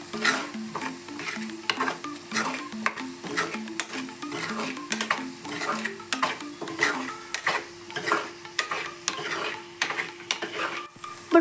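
Egg fry being stirred in a pan, a steady sizzle under rhythmic scraping and clinking of a spoon against the metal, repeated strokes continuing throughout at close range.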